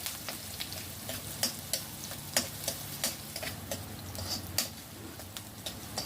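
Onions frying in oil for a Filipino okra dish, a soft steady sizzle with light ticking pops and occasional clinks of a stirring utensil, fairly quiet and without talk.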